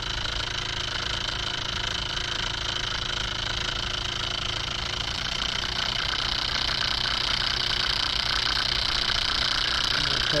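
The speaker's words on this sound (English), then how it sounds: "That's a 12 volt fan." A 12 volt fan runs off a homemade 48 volt DC generator built from a sump pump stator coil, giving a steady loud mechanical whir and hum that holds unbroken throughout and grows slightly brighter toward the end.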